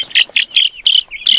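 Leghorn chicks peep in quick, high, bright chirps, about six close-up calls in rapid succession within a second and a half.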